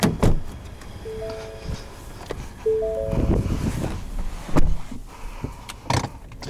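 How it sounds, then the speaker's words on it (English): Several solid thunks of a 2021 Ford F-150 XLT Sport pickup's doors being slammed, spaced irregularly, with clicks and short electronic chimes between them and no talking. "It's a truck. I have to slam the doors."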